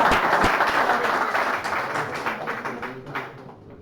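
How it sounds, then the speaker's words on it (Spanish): An audience claps in a dense, steady burst of applause that slowly fades over a few seconds. "¿A dónde está el aplauso ahora?"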